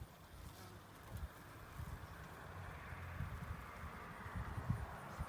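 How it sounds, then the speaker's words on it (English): Hundreds of small bees swarm over a bush beside a chicken coop, a faint, diffuse outdoor buzz mixed with low rustling and background noise, no voices. "there are hundreds of little bees"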